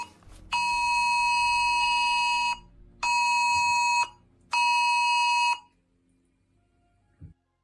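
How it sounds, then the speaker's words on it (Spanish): A mobile phone emergency alert tone issued ahead of a severe DANA storm sounds as three loud, steady, piercing beeps about a second and a half each with short gaps, followed by a faint click. "este fue el pitido que apareció en muchos teléfonos móviles"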